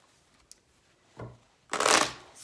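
A deck of tarot cards is shuffled by hand: a faint tap, then a short riffle followed by a longer, louder crisp flutter of cards, close and alone without talk.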